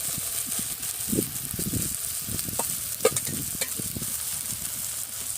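Soybean chunks and potatoes fry in a pan with goat fat, giving a soft steady sizzle under repeated close scraping and knocking stirs of a spatula, with one sharper clack partway through.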